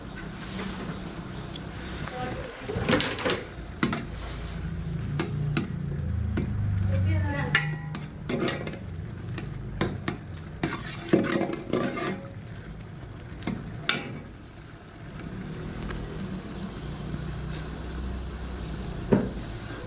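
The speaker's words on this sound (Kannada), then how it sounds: "ಚೆನ್ನಾಗಿ ಫ್ರೈ ಆಗ್ತಾಯಿದೆ" Soya curry masala with chilli powder and salt frying in a pan, a steady sizzle broken by repeated clinks and scrapes of stirring, fairly close, with no talking.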